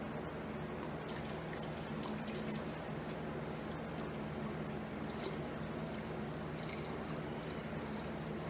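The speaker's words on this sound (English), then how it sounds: "go ahead and measure out our water." Water pours steadily into a container while being measured for cold process soap, a continuous soft trickle and splash running for several seconds with no talking.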